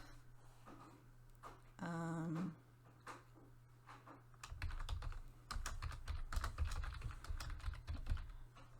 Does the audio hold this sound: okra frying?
no